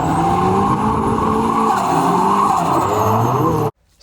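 Turbocharged 1.6-litre Mazda Miata running 14 psi while drifting, its engine roaring loud and close with shifting revs and tires skidding and squealing throughout, cutting off abruptly near the end.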